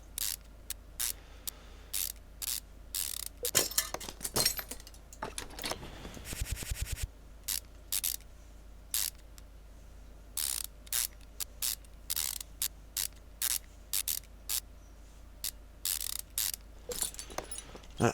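Bursts of ratcheting clicks from car parts being tightened on a Sakura GT20 engine rebuild in Car Mechanic Simulator 2015, with one longer mechanical whir midway; crisp, repeated, close game effects, no voices.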